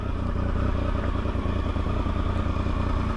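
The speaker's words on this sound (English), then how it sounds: "So we'll back the bike up, get a cheeky photo." A motorcycle engine idles steadily nearby as the bike is backed up, with a low rumbling drone and faint mechanical clatter throughout and no speech.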